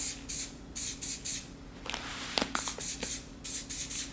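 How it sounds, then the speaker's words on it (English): Orange spray paint hisses from a rattle can in a series of short bursts, close and clear, with a pause and some light handling noises in the middle before more sprays. "get to spraying that with some orange"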